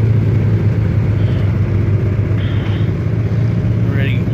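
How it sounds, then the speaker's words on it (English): A Yamaha Grizzly ATV warming up at a campsite makes a steady, close, low rumbling idle that drones on without revving, with faint higher background noise over it. "Warming up the grizzly."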